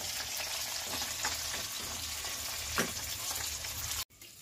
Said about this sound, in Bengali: আর এদিকে কই মাছটা ভাজা প্রায় কমপ্লিট